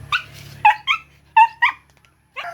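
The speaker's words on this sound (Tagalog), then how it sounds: "Ang cute ng aso." A dog gives a series of short, high yips and barks, in close pairs separated by brief pauses, close and fairly loud in an otherwise quiet room.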